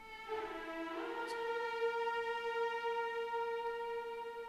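A sustained bowed violin tone from a sampled strings library, medium-arc articulation, swelling in and holding one steady pitch with rich harmonics, played alone.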